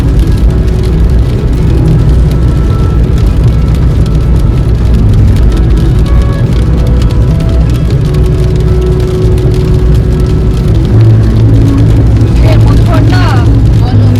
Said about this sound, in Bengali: দেবরা পর্যন্ত পুরো বৃষ্টি এখনো চলছে